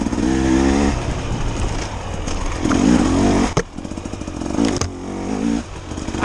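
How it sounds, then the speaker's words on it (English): A 2024 KTM 300 XCW two-stroke dirt bike engine revving close by, loud buzzy surges rising and falling in several throttle blips with brief cracking gaps between them. "but you just listen to this motor. It's a thing of beauty"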